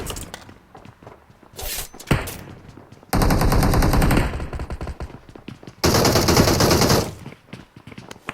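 Automatic gunfire in the battle royale game BGMI, heavy sustained bursts of several seconds each, loud and close, separated by quieter stretches with footsteps and scattered thuds.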